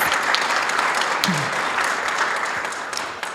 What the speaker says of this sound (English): Let's give Pat a huge round of applause.